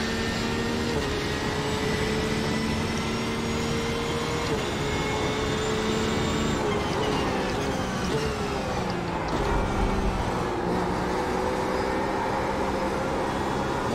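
A GTE race car engine on a hot lap in iRacing gives a loud, continuous drone throughout, its pitch climbing and dropping as it shifts through gears and revs change, with no talking.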